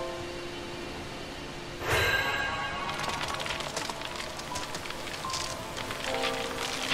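Rain in a forest in Stranger of Paradise Final Fantasy Origin, a soft steady hiss that swells abruptly into a denser downpour partway through, with faint game tones beneath and no voices.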